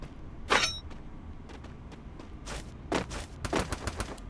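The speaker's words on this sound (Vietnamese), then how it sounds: "Đã nổ súng rồi nha em ơi" Gunfire in the video game Free Fire: a sharp loud shot, then scattered quieter reports and a closing cluster of rapid bursts, over low background game noise.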